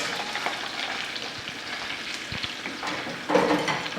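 Mushrooms sautéing with salt in a pan give a steady close frying hiss with light scraping and stirring, growing briefly louder near the end.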